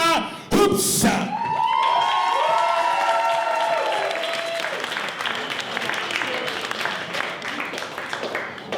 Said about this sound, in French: Faites un tonnerre d'applaudissements pour Lila Chupa Hoops.